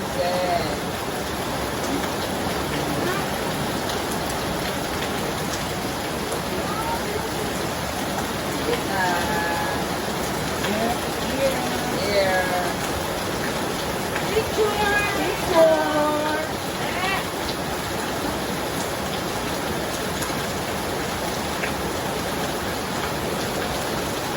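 Heavy rain pours down in a steady, dense hiss that holds loud and constant throughout, with voices talking over it now and then.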